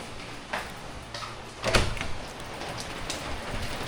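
Light rain falls steadily outside a home, a soft constant patter with a few louder knocks and one brief clatter partway through.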